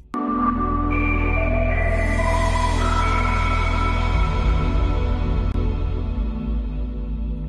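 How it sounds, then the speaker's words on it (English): A bright synthesized startup chime unfolds in rising layered tones over a deep sustained drone, swelling then slowly fading over several seconds. "Now here's my recreation of the Dreamcast startup sound."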